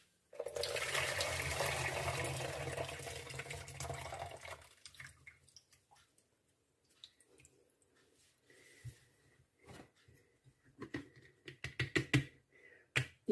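Water from a pot of pickling cucumbers pours out in a steady, loud gush for about five seconds, then scattered clinks, drips and handling noises of the pot and jars follow.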